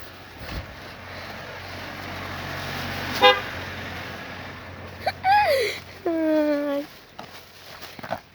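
Two loud horn honks from a nearby minibus, the second longer with a wavering pitch, over steady street noise.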